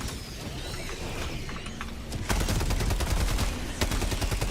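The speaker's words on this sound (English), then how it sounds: "Drop an artillery right there." An artillery strike lands in a video game, with a scatter of sharp impacts and bursts that grows into a dense, loud volley of booms in the second half.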